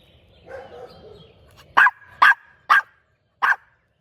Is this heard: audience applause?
no